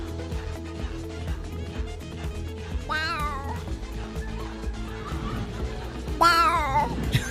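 A voice imitating cats meowing gives two drawn-out, wavering meows several seconds apart over a steady background murmur.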